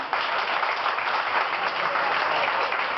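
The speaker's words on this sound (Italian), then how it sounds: "voglio un bel applauso per il mio maestro Pasquale da Cioppi" Sustained applause from a restaurant dinner-show audience in Vietri sul Mare, a dense, steady wash of clapping hands filling the whole stretch at even loudness with no voices over it.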